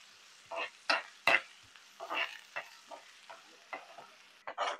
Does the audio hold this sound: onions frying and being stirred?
yes